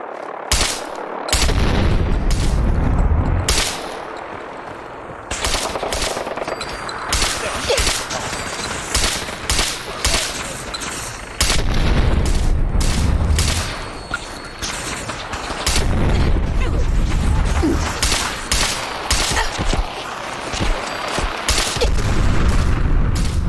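Dense gunfire and booming explosions in the VR game Fallout 4 VR, with rapid volleys of shots and heavy blasts going almost nonstop, loud and close throughout.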